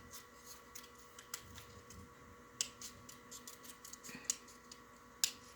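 Scissors snipping out a paper embellishment, quiet close-up cuts with a few sharper clicks of the blades over a faint steady background hum, no speech.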